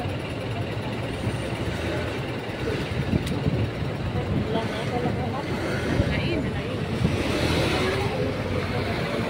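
Road traffic on a Tel Aviv street with a truck passing, a continuous rumble of engines and tires nearby, with a person talking over the noise.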